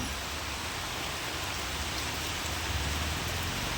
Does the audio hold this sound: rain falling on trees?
yes